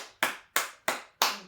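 Four crisp, evenly spaced handclaps in a church, applause for a mother, close and clear, coming from one person with no crowd noise.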